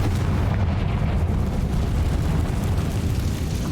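A Confringo explosion spell in the Hogwarts Legacy video game gives a loud, sustained, booming rumble that stays heavy and steady throughout, like continuous blast fire.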